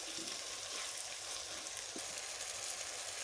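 Vegetables, spices and chopped green onion frying in a pan for chicken macaroni, a steady quiet sizzle with a few faint stirring knocks, no talk.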